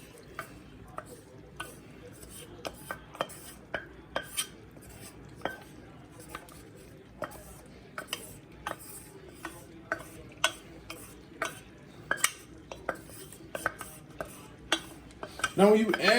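Spoon scraping and clinking against a pot as about 2.5 cups of cooked rice are folded and stirred into a gumbo-style mix, with regular sharp taps repeating throughout over a low background.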